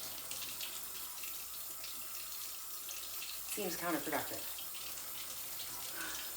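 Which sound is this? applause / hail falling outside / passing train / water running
water running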